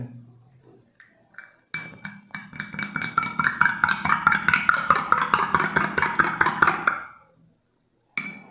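A spoon stirs honey into powder, giving a run of quick, rhythmic clinks and scrapes that build into steady stirring for several seconds, then stop.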